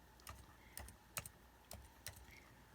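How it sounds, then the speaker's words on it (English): Typing on a computer keyboard, with a handful of soft, scattered key clicks in small bursts, close but quiet, with no talk. "let me just type in Kentucky"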